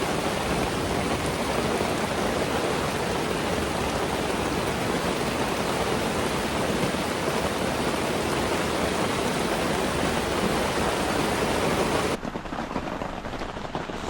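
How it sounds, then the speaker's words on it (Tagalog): Steady, dense hiss of rain falling continuously at a farm by a river, loud and close, with the sound dropping slightly near the end. "Umuulan."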